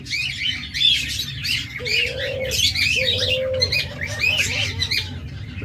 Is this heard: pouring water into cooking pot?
no